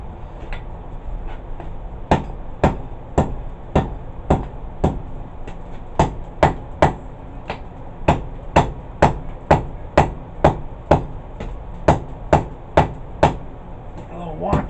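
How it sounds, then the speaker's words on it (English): Light, evenly spaced hammer blows ring on hot steel while an herb chopper is forged, about two dozen sharp metallic strikes in a steady rhythm, close and clear. "We'll just do some light blows to clean her up here."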